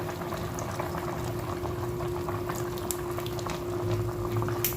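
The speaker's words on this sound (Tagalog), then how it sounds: "lagyan na natin ng suka" Vinegar poured into a simmering pot of pork feet paksiw, with a steady low bubbling and liquid trickle throughout, quiet and close, accompanied by a constant electrical hum.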